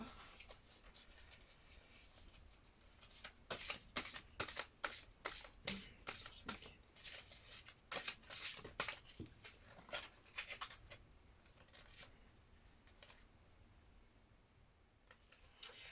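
Playing cards are shuffled by hand at close range, a series of quick riffling bursts that go on for several seconds and then settle, with two cards falling out at the end.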